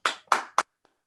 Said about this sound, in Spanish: agradezcamos primero a Eduardo su charla con un aplauso